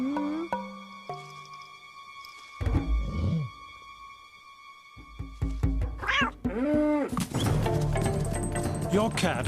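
A cat meows and yowls in a cat food commercial, a few drawn-out cries set among musical tones and sound effects, with a narrator's voice over part of it.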